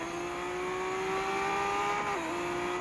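A Lamborghini Aventador SVJ in a racing video game holds a steady, high-pitched engine note that dips slightly near the end, as if shifting or easing off, loud and continuous with no voices.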